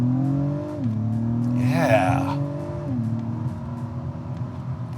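An Acura TLX sports sedan's engine note climbs steadily through gear changes as it accelerates on a wooded road, with a brief voice and rushing noise mid-way.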